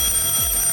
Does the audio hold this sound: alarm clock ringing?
yes